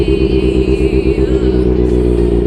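A 2020 Kawasaki ZX-6R 636 sport bike with a modified exhaust idles while warming up in Surabaya. Its loud, steady engine throbs close by, with a constant even rumble and no talking.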